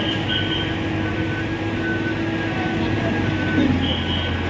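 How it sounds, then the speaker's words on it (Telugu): A train runs along the railway track beside a track replacement and underpass worksite in Anantapur, a steady low rumble with a faint high whine held throughout at moderate level, no voices. "ట్రైన్ వస్తున్నట్టుంది."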